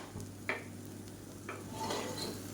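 Cooked basmati rice stirred and mixed in a pan, a few soft scraping strokes of a spoon against the pan with a faint background hiss, heard up close with no talking.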